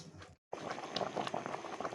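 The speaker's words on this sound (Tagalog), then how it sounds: "Ayan, kumukulo na yung aking saging" A pot of bananas bubbling at a steady boil, busy crackling and popping close by, after a brief moment of silence.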